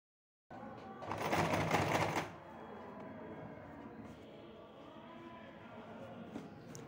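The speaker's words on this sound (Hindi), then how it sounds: "ये देखिए यहाँ से हमें स्टिच लगाते हुए जाना है।" A sewing machine stitches along the very edge of fabric, giving a loud, dense burst of rapid mechanical stitching for about a second near the start, then settling into a quieter, steady running whir that continues to the end.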